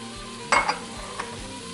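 Finely diced celery, carrots, onion and minced garlic sauté in a pot over medium heat for a lobster shrimp chowder, a soft steady sizzle broken by a couple of quick utensil scrapes and clinks.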